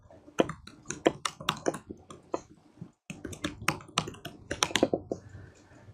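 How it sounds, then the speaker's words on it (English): Rapid clattering keystrokes on a computer keyboard during a live HPE SimpliVity demonstration, close and fairly loud, in irregular bursts with a brief pause midway and no talking. "typing in front of people, you always mistype things"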